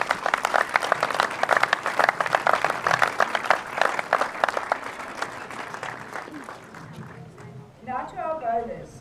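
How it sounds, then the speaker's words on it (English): Audience applauding tournament staff on finals day of a bowls inter-district championship: dense, steady clapping from a large crowd for about seven seconds, fading out as a voice starts speaking. "Can we please take a moment to give these people all a big round of applause?"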